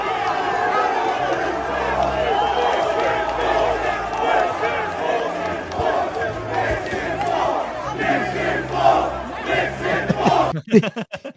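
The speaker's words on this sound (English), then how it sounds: "They're just cheering." A crowd of sports fans cheers and shouts in a loud, continuous din, voices rising and falling together, with a brief burst of handling noise at the end.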